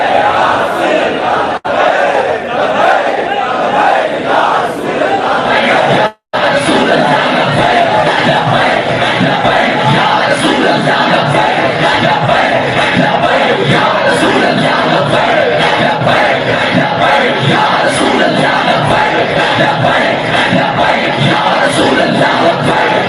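A large crowd at a religious gathering chants slogans in unison, a loud, continuous roar of many voices that barely breaks for the whole stretch.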